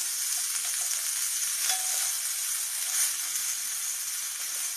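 Onion paste fries in hot oil with dried red chilli and whole cumin for a rui fish and papaya curry, giving a steady, close, even sizzle that holds throughout with a few faint stirring clinks and no talk.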